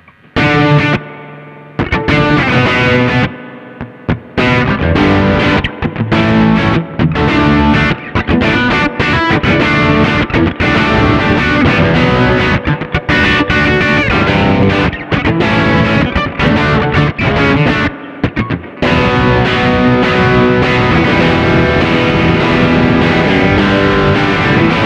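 Electric guitar through a Marshall MG15 CFR amp with reverb turned up, playing continuous loud distorted chords and riffs with a short pause near the start and brief gaps along the way.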